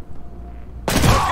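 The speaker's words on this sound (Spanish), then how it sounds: "Oh, la hermosa escopeta." A shotgun fires in Mutant Year Zero, a single sudden loud blast after a quiet moment, followed by a ringing, rumbling tail.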